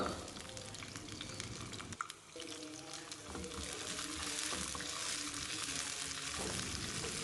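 Shallots sautéing in a pan for a Tirunelveli village kootanchoru, giving a steady close sizzle and crackle throughout, with occasional scraping stirs and no talk.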